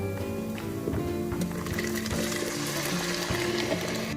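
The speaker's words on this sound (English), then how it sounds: "Now I'm pouring in the tomato paste." Tomato paste is poured into a hot pan of sautéed garlic and oil, giving a wet, splattering, bubbling sound that stays steady and close for several seconds.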